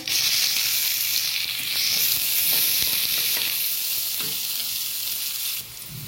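Finely chopped onions with urad dal and mustard seeds frying in a pan, a loud, steady, close sizzle with a broad hiss and faint stirring clicks, unbroken throughout.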